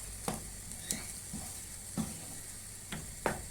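Grated tomato poured into a pan of sizzling finger kebab, with a steady faint hiss and several soft wet splashes and light clinks of pan contact spread across the moment, close and quiet, no talking.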